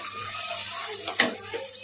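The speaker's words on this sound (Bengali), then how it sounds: "এবার আমি 1 চামচ কর্নফ্লাওয়ার গুলে নিয়েছি, এই জলটা আমি দিয়ে দিলাম।" Cornflour mixed in water is poured into an egg chilli gravy, giving a quiet, brief liquid pour with a small splash near the end.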